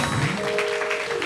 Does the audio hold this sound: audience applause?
yes